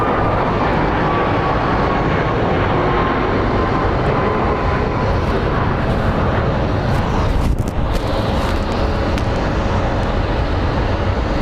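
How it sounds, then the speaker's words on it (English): An American Airlines jet departs Phoenix Sky Harbor, its engines a loud, steady roar held throughout the clip that swells slightly midway, without any talk. "Up next for departure is American Airline 1926 headed to Reno."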